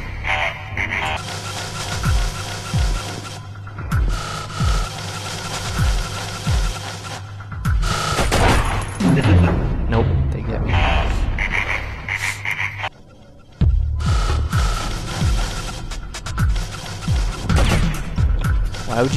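Enemy gunfire rattles in Oddworld: Abe's Exoddus, a run of sharp, punchy shots and crashes over looping game music, loud and close, with a brief dropout partway through.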